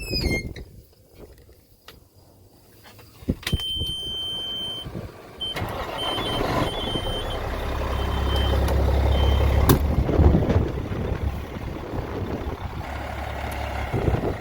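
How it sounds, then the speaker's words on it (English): A Peterbilt 379 day cab truck's engine cranks and catches, then settles into a loud, rumbling diesel idle. High electronic beeping sounds before and during the start. "we'll start her up so you can hear the engine."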